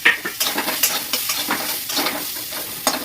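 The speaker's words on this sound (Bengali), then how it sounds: "আলু ভাজা হয়ে গেছে, ঠিক আছে। এর মধ্যে পেঁয়াজ দিয়ে দেবো," Onions going into potatoes already frying in a pan, with steady sizzling and repeated scraping stirs of a utensil against the pan, close and fairly clear with no talk.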